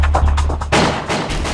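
Gunfire in the N64 shooter WinBack: Covert Operations comes as a quick run of sharp, booming shots in bursts, loud and close, with no talk over them.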